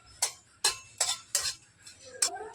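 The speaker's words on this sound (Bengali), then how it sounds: "নাড়াচাড়া করে ভেজে নেব।" Dry chillies stirred in a pan without oil, heard as five or six sharp scraping clinks of a utensil against the pan at a steady, unhurried pace, close and alone.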